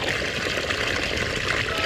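Strong, steady rush of water flowing hard at close range, a continuous broadband gush with no breaks and no talking.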